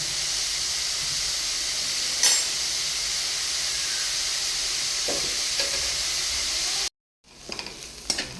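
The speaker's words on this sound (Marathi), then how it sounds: "असा लाल गोल्डन भाजून घ्यायचं. एकदम तळायचा." Onions fry over a full gas flame until golden red for a dried-fish sukat chutney, producing a continuous close sizzle and hiss with a few stirring scrapes and a brief dropout near the end.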